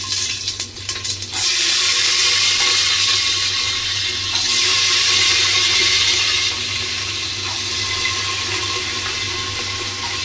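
Cumin and chillies fry in hot oil for khichuri. A few clattery knocks lead into a loud, dense hiss of frying that carries on steadily and alone, easing slightly partway through.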